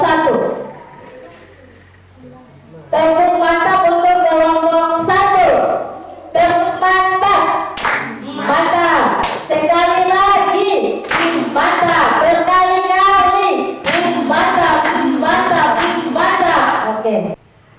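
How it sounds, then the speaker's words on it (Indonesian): A classroom group of students claps in rhythm for a presenting group, the claps mixed with loud chanting voices that run almost continuously after a brief quieter start. "Kita beri tepuk tangan untuk kelompok"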